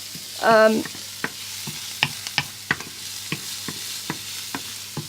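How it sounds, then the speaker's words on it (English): Onions frying gently in a pan, opening with a brief bright metallic squeal, then a faint steady sizzle punctuated by light, evenly spaced utensil taps and scrapes, near and fairly quiet. "I'm just going to literally fry it off."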